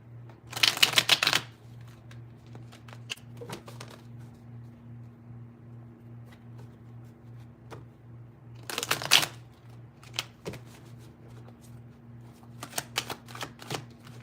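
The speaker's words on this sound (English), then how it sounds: "Before I even shuffle." Tarot cards are shuffled in crisp riffling bursts, two loud passes several seconds apart with lighter card handling between, over a steady low hum.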